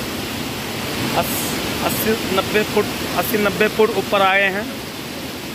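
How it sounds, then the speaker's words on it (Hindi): Amboli Ghat waterfall pours with strong flow, a constant broadband rushing hiss filling the background, while someone talks over it. "पानी का बहाव जो है ओरिजिनल में देखेंगे ना तो बहुत ज़्यादा है"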